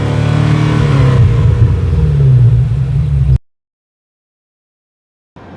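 A BMW M5 in its most aggressive drive mode revs hard and holds against a 4,000 rpm limiter, a loud, close, buzzing engine note that cuts off abruptly into silence, with a brief burst returning at the end.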